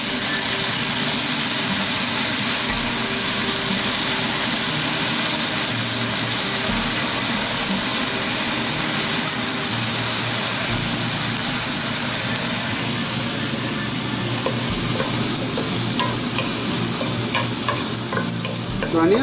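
Finely chopped onions sizzle steadily in a hot pan while being stirred for Guatemalan pollo a la crema, a continuous close frying hiss with occasional scraping, no talking.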